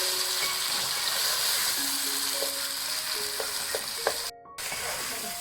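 Chicken frying in cumin-flavoured oil in a pot, a loud steady sizzle with faint clinks and scrapes from stirring, close up, with no voices.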